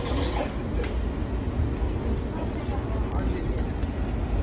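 A Washington Metro subway train rides along with a continuous loud rumble and rattle of the car, steady throughout, with some faint background voices.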